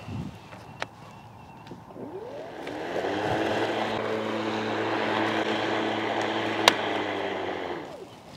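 A Litheli U20 brushless battery lawn mower cutting short grass: a steady electric whine and hum that swells as the blade spins up and then holds level, with a couple of sharp clicks and no talking.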